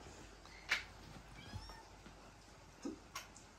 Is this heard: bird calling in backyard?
no